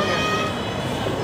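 Metro train at LB Nagar station in Hyderabad, a steady loud rumble of rolling rail noise filling the whole moment without a break.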